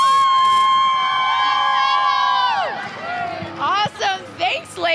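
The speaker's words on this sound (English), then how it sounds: "Let's get these guys a big cheer and get them really pumped up." Spectators at a women's professional hockey game between Team Russia and Connecticut cheer loudly with sustained rising and falling whoops, then break into shorter excited shouts close by.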